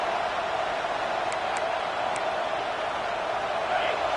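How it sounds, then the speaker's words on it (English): A packed stadium crowd at a football game sends up a constant, loud roar of cheering, an even wall of noise from the stands with a commentator's voice carrying over it. "this crowd is fired up. Listen to this noise here"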